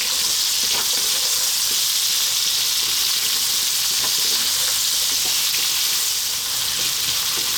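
Chopped onions fry in a pan for a potato mushroom curry, making a loud, steady, close sizzle that holds evenly throughout with faint scraping underneath and no talking.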